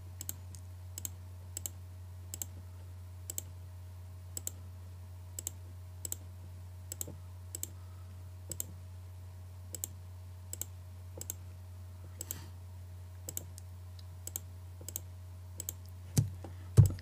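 Sharp, quiet computer mouse clicks at a fairly steady pace of about one per second while faces are selected in Maya 3D modelling software, heard alone over a low steady hum, with a slightly louder cluster at the end.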